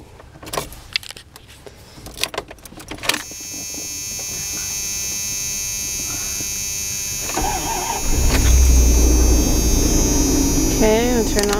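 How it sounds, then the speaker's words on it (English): Air-conditioning fan in a 1994 Dodge Ram van blows with a steady, loud whooshing hum that grows stronger partway through, after a few light clicks and jingles at the start. "There was like a really annoying fan noise."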